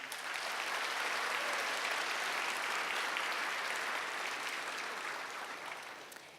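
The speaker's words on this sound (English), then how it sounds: "Please join me in a round of applause to them." Audience giving a round of applause at the APA Heritage Celebration 2017, a dense, sustained wash of many hands clapping that holds steady and then tapers off toward the end.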